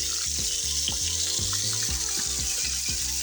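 Shrimp frying in a pan with garlic gives a continuous close sizzle, while a tonal, rhythmic clattering pattern runs underneath throughout, with no voices.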